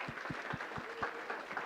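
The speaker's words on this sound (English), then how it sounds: "we can give you a big round of applause" Light applause at a Palm Beach County homeless and housing forum: a handful of evenly spaced, fairly faint claps with a soft murmur of room noise beneath.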